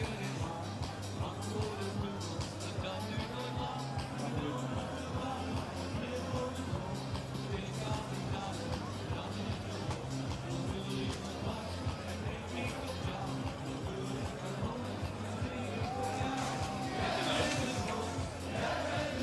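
A cyclocross World Championship crowd in Valkenburg, Netherlands, celebrates as a steady roar of cheering and chatter, with a commentator's voice and occasional shouts rising out of the noise.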